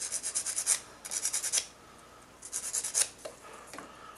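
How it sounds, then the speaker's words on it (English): Plastic edges of a model kit are roughed up with a sanding stick in quick bursts of close, scratchy rasping strokes, separated by brief pauses, with no talking. "Just kind of rough up the edges."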